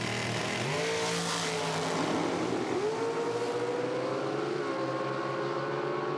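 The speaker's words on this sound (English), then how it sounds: "Just a great side-by-side drag race." Pro Mod drag race cars launch side by side, their engines rising in pitched, revving whines heard from a distance, fairly faint and without talk.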